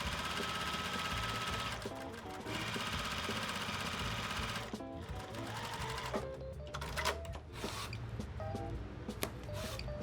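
A sewing machine stitches a quilt seam with a fast, steady mechanical whir and rapid needle clatter, running continuously and briefly easing and restarting, close and faint.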